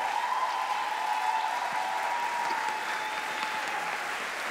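A German comedy-show audience applauds steadily, a dense even clapping that fills the room at moderate loudness, with scattered cheers and no talking over it.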